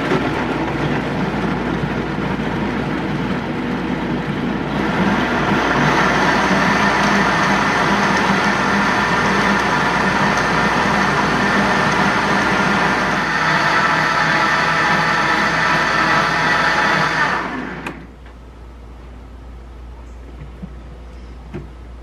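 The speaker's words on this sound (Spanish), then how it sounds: "La tapo y la pongo a moler." A blender grinds kiwi, lime, sugar and water in one loud, continuous whirring run of about thirteen seconds, with a quieter motor hum before it and a sudden stop near the end.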